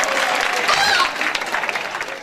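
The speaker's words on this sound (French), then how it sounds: "Applaudissez comme vous voulez." Audience applause at a political party gathering, with dense clapping and crowd noise that swells and then breaks into scattered, thinning claps, while voices call out beneath it.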